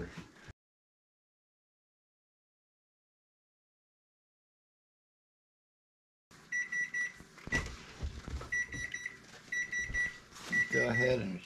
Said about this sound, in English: Go ahead and shut that timer off.